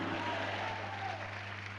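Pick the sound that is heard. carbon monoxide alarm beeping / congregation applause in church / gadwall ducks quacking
congregation applause in church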